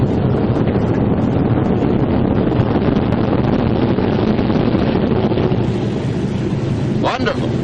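A WWII-era Martin B-26 Marauder bomber's engine runs in a steady, dense, loud roar that stays constant throughout, rough and unvarying like old film audio.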